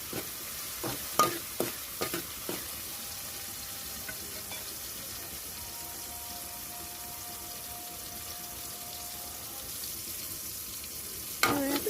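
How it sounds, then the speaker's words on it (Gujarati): Tomatoes are stirred in a pan as they cook down for a Gujarati drumstick curry, a faint steady sizzle with a few spoon clinks near the start and again at the end, and no talking. "જ્યાં સુધી ટામેટા ગળી ના જાય ત્યાં સુધી તેને પાકવા મૂકી દેશું"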